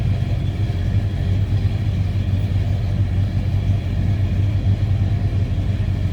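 A 1987 Chevrolet Monte Carlo SS with its 350 V8 running, heard from behind the car: a loud, steady low idle rumble from the exhaust, constant throughout with no talking.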